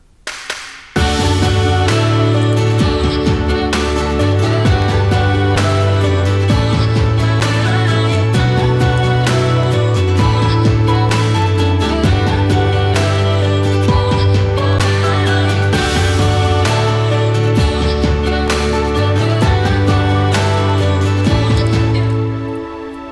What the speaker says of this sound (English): There is one simple motif doubled with a synth. They are just drums.